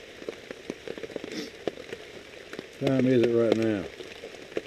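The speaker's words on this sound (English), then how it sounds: "You can hear the rain coming down." Steady rain falls outdoors on a morning deer hunt in bad weather, a soft, continuous patter with scattered drops, while someone speaks briefly partway through.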